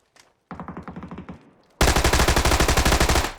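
Automatic gunfire in PUBG, opening with a rapid burst of about a dozen evenly spaced shots, then after a pause a louder, closer and longer burst of rapid fire.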